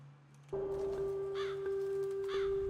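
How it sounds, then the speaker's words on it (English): A crow caws several times in clear, loud calls over a steady tonal hum, the harsh caws coming in short bursts spaced across a couple of seconds. "I love the crow cawing."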